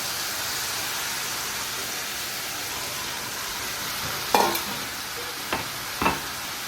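Garlic frying in a pan sends up a steady soft sizzle and hiss, close by, with a few sharper clatters and sputters near the end as tomatoes go in; nobody speaks.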